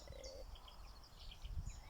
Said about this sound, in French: les petits oiseaux chantent